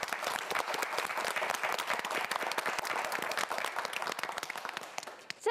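Studio audience at a Korean TV quiz show gives sustained, dense applause, loud and steady throughout before tapering slightly at the end.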